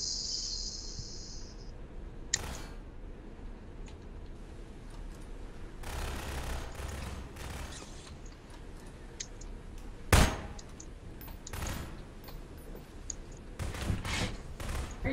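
Scattered gunshots in a Prop Hunt video game round, coming as sparse, distant-sounding bursts and single cracks over a faint hissing background, with one sharper report standing out midway.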